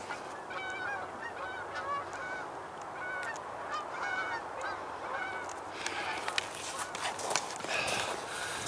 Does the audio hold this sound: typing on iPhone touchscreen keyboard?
no